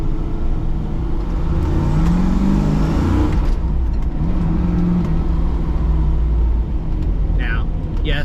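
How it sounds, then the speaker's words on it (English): A 1970 Camaro Z28 with a small block Chevy V8, solid lifters and 4.10 gears accelerating hard, a loud close engine roar rising through revs with a gear change, a short tire screech near the end. "There's nothing like a small block Chevy with 410 gears."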